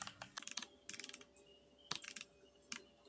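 Quick bursts of keystrokes on a computer keyboard as an HTML head search is typed, clustered in short runs with pauses between, close and fairly quiet.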